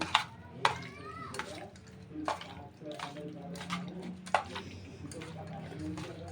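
Prawns being stirred and mixed in a pan for a fry gravy, with wet scraping and clinking strokes repeating irregularly at close range while a voice talks over them.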